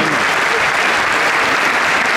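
An audience at a Turkish classical music concert applauds continuously, a dense, loud, even clatter of many hands clapping throughout.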